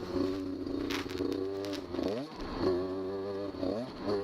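A Beta 200 RR two-stroke dirt bike rides a double track at Durhamtown, its engine loud and close, revving and easing off in repeated surges with a brief dip as the throttle is rolled back.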